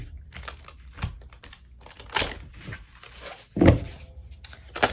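Oracle cards being handled and shuffled at a tarot reading, with close crinkly rustles, soft taps and a louder slap of cards, irregular and near.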